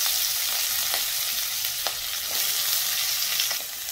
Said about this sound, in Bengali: এখন কেটে রাখা আলু পটলগুলো দিয়ে দেব,